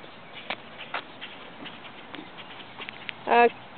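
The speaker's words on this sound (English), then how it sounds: "Ride on my horse" A horse ridden at a walk by a young cowgirl, its hooves giving light, spaced clip-clop thuds in an irregular rhythm, with a short voice cutting in near the end.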